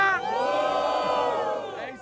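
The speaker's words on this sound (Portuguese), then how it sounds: "Muito barulho pra batalha!" A large crowd at a rap battle roars, cheers and shouts together, loud and sustained for a couple of seconds.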